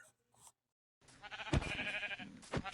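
A sheep in the video game Minecraft gives a wavering bleat, close and clear, after a short quiet gap and a brief earlier sound.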